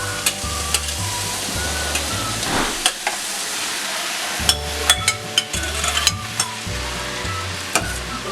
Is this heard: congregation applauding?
no